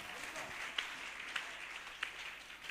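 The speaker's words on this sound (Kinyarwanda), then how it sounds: "Amashyi menshi cyane kubw'ijambo ry'Imana." A church congregation clapping after a sermon, a soft, distant patter of applause with a few sharper claps standing out, quiet and somewhat muffled throughout.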